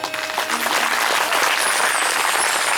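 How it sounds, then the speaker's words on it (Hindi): Audience at a Shiv Puran religious discourse in Pathra, Chhindwara, clapping loudly for India: dense, sustained applause that swells and stays strong throughout. "भारत के लिए एक बार बहुत जोर से ताली बजाई"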